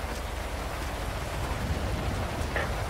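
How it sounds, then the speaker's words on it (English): Heavy rain and hail hammer down in a Roblox game, a dense, loud, constant wash of noise with no break. "it's raining and it's so loud right now"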